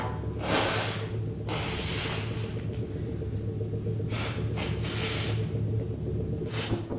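Several breathy, forceful nose blows from a man with a bad cold come in separate bursts, close by, over a low steady hum.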